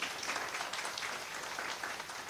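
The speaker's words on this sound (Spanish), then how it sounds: "démosle un fuerte aplauso al Señor." A church congregation breaks into steady, dense applause after a sermon's call to praise, many hands clapping together at close range throughout with no talking over it.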